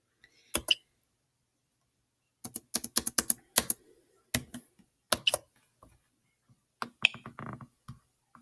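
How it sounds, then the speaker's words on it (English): Values typed on a computer keyboard, crisp close key clicks in short irregular bursts separated by silent gaps, no voices. "Let me just type in some values here."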